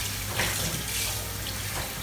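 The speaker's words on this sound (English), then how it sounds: "So you must make sure that you flow water inside the fish and wash out every aspect of the fish." Tap water runs steadily into a sink while raw tilapia is washed, a continuous splashing flow close by with no talking.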